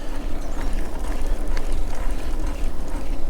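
Strong wind buffets the microphone while riding a GIN X electric bike across a field, a continuous loud, low rumbling roar with gusty swells and no pauses.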